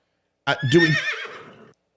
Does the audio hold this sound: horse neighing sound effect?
yes